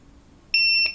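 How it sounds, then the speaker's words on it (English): A small kitchen timer that has been tipped over gives a single sharp, high, electronic beep, loud and close, after a moment of near silence. "It'll beep 8 times and then it will turn off automatically."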